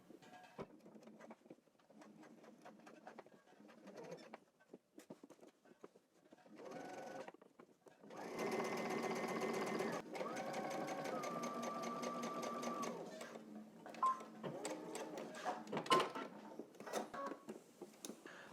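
A sewing machine stitches a seam on pleated pants in short bursts of rapid, even needle chatter, then one longer close run of several seconds, with quiet handling noises between the bursts.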